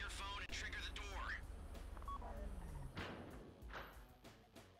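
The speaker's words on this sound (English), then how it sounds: "Take out your phone and trigger the door." Phone keypad tones from GTA 5 Online triggering the vault door during the Diamond Casino heist, with beeps and a thud amid continuous game noise, while people talk throughout.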